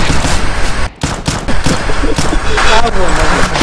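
A revolver fires in the first-person shooter CS:GO: loud, dense gunfire with rapid shots packed close together, up front and heavy, while a voice talks over it.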